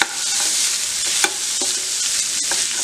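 Potatoes with salt and red chili stirred in a frying pan, a steady loud sizzle with scraping strokes of the spoon every half second or so, no voices.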